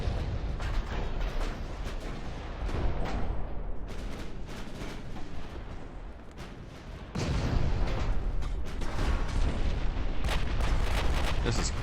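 Heavy cruiser naval guns thunder in the naval battle game Ultimate Admiral: Dreadnoughts, with dense overlapping booms and shell impacts going on steadily, growing heavier in the second half, and some talk underneath.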